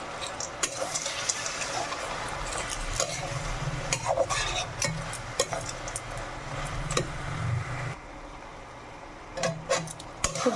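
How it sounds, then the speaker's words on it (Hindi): Vadi being stirred together with bahal greens in a pan, heard as a soft, uneven scraping and stirring under a low simmering sizzle, with a few louder clinks of the spoon near the end. "तो एबे जो बहल भाजी रे बड़ी के मिक्स कर दूँ"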